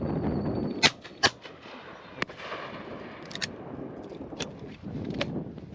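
Shotgun blasts on a pheasant shoot ring out outdoors as a series of sharp, loud reports, some close and some more distant, spaced irregularly over several seconds against a light background hiss.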